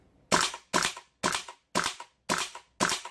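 A Golden Eagle M4 gas blowback airsoft rifle is dry fired with a new gas cylinder set, producing six sharp, evenly spaced cracking shots up close.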